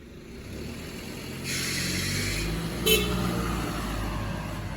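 A 2016 Chevrolet Camaro 2SS pulls away under a steady low engine rumble that swells slightly, with a brief horn-like toot partway through amid outdoor background noise.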